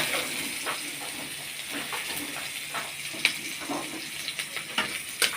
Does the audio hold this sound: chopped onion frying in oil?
yes